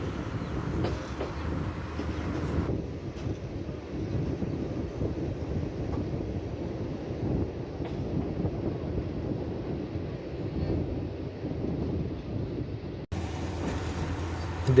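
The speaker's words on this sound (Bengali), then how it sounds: "সামনে স্টেশনের জন্য ট্রেনের গতিটা অনেক কমিয়ে দিয়েছে।" A passenger train running from Bogura to Santahar in Bangladesh slows on its approach to a station, heard from inside as a steady low rumble of wheels and carriages with wind noise blowing across it.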